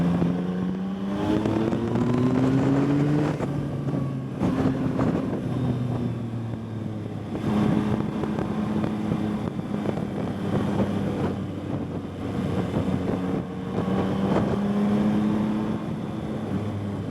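A Yamaha MT-09 motorcycle on a road test ride produces a steady engine drone that rises and falls through gear changes, with strong wind rush over the microphone throughout.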